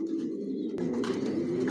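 Silver racer pigeons coo softly and continuously nearby, low burbling calls overlapping with a brief sharp knock partway through.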